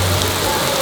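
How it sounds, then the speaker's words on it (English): Heavy rain pours down in Venice, a loud, close, continuous hiss of drops striking hard surfaces, steady and unbroken for the whole brief moment. "It just started dumping rain."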